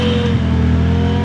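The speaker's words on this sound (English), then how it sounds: "Dude, it literally sounds like a brand new car." A modified Mazda Miata engine revs loudly and close, a deep, steady, harmonic-rich drone that shifts its pitch briefly partway through and has no talk over it.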